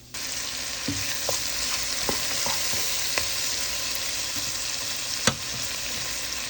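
Onions, salt and sofrito saute in a pot, a steady dense frying hiss with scattered spoon taps and scrapes and one louder knock toward the end.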